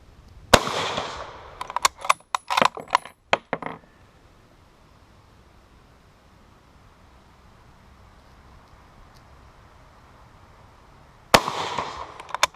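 Several sharp reports from a Krag-Jørgensen Model 1898 long rifle in .30-40 Krag, fired at an irregular pace in a quick string, then a long quiet stretch before another shot and its ringing tail at the end.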